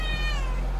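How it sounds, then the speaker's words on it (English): A domestic cat gives a single close, clear meow that slides downward in pitch, loud against a steady low background hum. "Meow. Meow. Meow."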